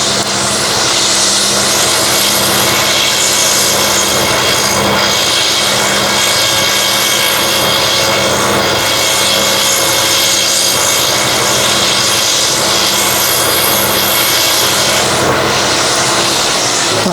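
A threading jig runs while cutting threads on a bolt, giving a loud, continuous motor whine and drone that stays steady from start to finish.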